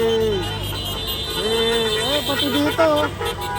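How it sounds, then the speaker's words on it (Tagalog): Car horns honk repeatedly at a street rally against corruption, short toots and honks sounding close by amid traffic while someone talks over them. "Ayan o, busina ng busina o."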